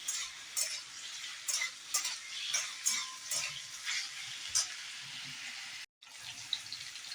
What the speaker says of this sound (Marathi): बटाटा असा चांगला तुपात असा चांगला फ्राय करून घ्यायचा आहे